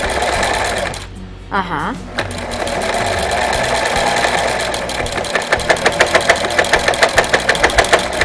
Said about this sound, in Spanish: La idea es no apurarla, no la podemos apurar, porque lo que está es bordando.